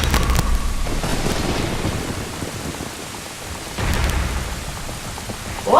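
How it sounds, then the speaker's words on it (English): Thunderstorm in Ocarina of Time: steady heavy rain with rumbling thunder rolls near the start and again toward the end, broad and continuous with no talking. "hello, stormy dream, with a sense of foreboding in it"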